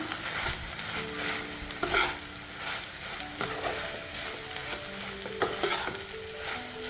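Aviyal, a coconut-heavy mixed vegetable dish, stirred and mixed in a pan with soft scraping strokes over a faint steady sizzle, a few louder clunks of the spoon against the pan.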